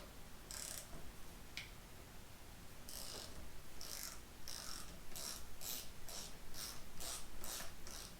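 Ratchet loosening two 8mm bolts on the handlebar bracket of a 2022 Honda Grom, a series of quiet close clicking bursts in a quickening rhythm, with no talking.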